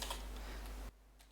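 Rapid keystrokes on a computer keyboard as a username is entered, a quiet, close flurry of clicks lasting under a second before falling silent.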